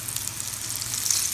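Flour-crusted lobster sizzles and crackles steadily in hot sesame oil, a close, continuous frying hiss with no voices.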